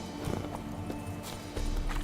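Hooves of Roach, a horse in The Witcher 3: Wild Hunt, clip-clopping in a short run of steady beats, fairly close, under a low game ambience and music with no talk.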